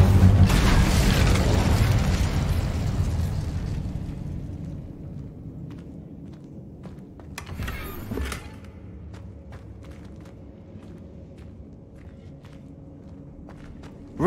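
An Incendio fire spell in Hogwarts Legacy bursts loudly at the start with a roaring whoosh that fades over a few seconds, followed by a brief second flare and scattered small clicks and footsteps.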